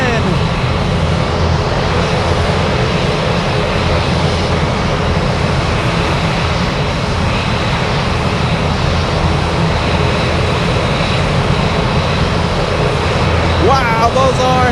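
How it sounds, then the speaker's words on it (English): A Boeing 747 Dreamlifter lands at Anchorage, its engines a loud, close, continuous rumble and whine filling the whole stretch, with a rising tonal sweep near the end and some voice beneath. "Big 747 coming in."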